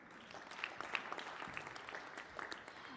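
Audience applause at a social protection financing conference, a brief round of clapping from a modest crowd, steady and fairly faint, heard alone.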